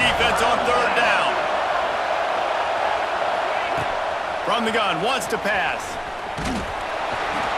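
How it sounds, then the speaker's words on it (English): A stadium crowd in EA College Football 26 roars as a steady, broad wash of noise that swells on third down, with an announcer talking over it and a few thuds. "Decibels rising as the crowd gets behind this defense on third down."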